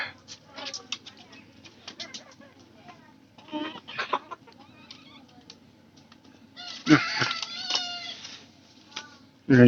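A flock of chickens clucking and chirping while feeding together, with scattered soft calls and a few louder bursts nearby, and a voice talking at times.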